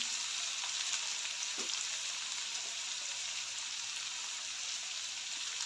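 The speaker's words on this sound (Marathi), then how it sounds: "यामध्ये थोडंसं मीठ घालते जेणेकरून कांदा लवकर भाजला जाईल" Onions frying for kanda poha, a continuous soft sizzle and crackle with a faint scrape now and then, steady and alone.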